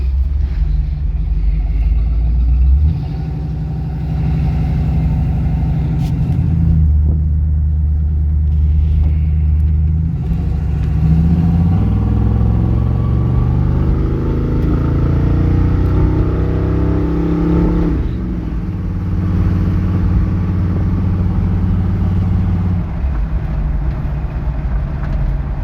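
A 1971 Chevy Cheyenne C10 pickup's 350 V8 runs after a cold start in winter, idling with a deep steady rumble. It then revs up and settles back down, up close and loud.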